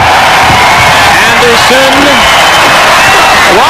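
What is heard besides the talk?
basketball crowd cheering at the SkyDome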